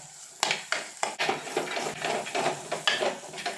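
A spoon stirring sardine curry with roasted coconut in a metal pan, producing a series of sharp scraping clinks and knocks at an irregular rhythm over a soft frying hiss, close and with no talking.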